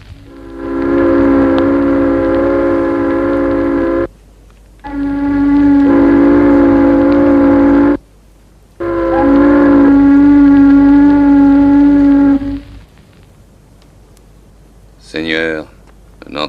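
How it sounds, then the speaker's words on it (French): A ship's siren blares in three long, deep, loud blasts separated by short pauses at sea, followed by quieter rumbling and a brief voice. "Sirène!"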